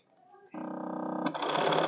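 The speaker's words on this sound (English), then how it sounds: "go to the sewing machine and I'm going to stitch one side" Sewing machine stitching a quilt for an envelope-back pillow, starting up after a quiet moment and whirring steadily with a fast buzzing rhythm that rises in speed partway through.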